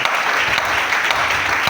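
A church congregation applauding together after a call to acclaim the word of God, dense sustained clapping filling the room, steady and fairly loud throughout.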